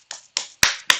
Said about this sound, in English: I give that a 2-hand clap.